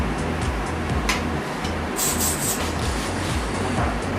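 Hairspray is sprayed onto the side of a styled hairdo in a brief hissing burst, heard over a constant low rumbling background.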